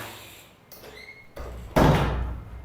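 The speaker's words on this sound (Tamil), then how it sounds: "இந்த கதவு வேற ஒன்று அப்பப்போ சவுண்ட் வர கொடுக்கும்" An indoor door during heavy rain gives a faint thin creak, then swings shut with a loud, close bang that rings out briefly.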